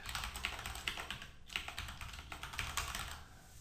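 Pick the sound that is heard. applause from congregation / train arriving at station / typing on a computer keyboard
typing on a computer keyboard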